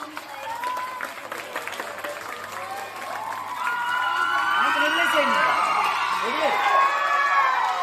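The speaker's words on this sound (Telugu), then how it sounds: "చప్పట్లు కట్టిండ్రా." Applause and cheering from a crowd of children at a school Sankranthi celebration, a steady wash of clapping that grows louder and denser midway, with shouts and whoops mixed in.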